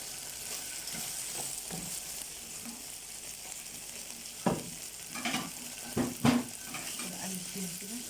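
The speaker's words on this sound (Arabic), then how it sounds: "بقلب فيها كده" Red and green peppers frying with shawarma in a pan, with a steady soft sizzle under a few sharp scraping stirs and clinks of a utensil against the pan near the end.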